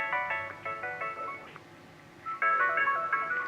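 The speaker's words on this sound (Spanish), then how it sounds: "Oye, pero insistente tu celular." A mobile phone with a Taiwanese chip rings with a loud, melodic ringtone, its bright repeating bursts of notes pausing briefly midway before starting again, with no talking over it.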